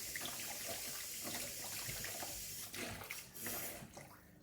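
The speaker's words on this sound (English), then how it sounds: "I'm just going to give this a bit of a rinse because seeds are floating around" Tap water running steadily over a red pepper held under the faucet, a soft continuous splashing and hiss that is close and alone, with slight changes as the pepper shifts in the stream.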